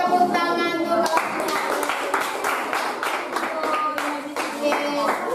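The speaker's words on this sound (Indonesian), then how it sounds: "beri tepuk tangan dulu" Schoolchildren in a classroom clap together in quick, bright bursts, with children's voices mixed in under the applause.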